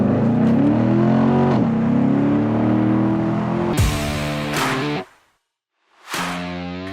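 A 2014 Corvette coupe accelerates hard from a rolling start, its engine climbing loudly in pitch through the gears with sharp upshift breaks, a brief silent gap, then resuming strong acceleration up close.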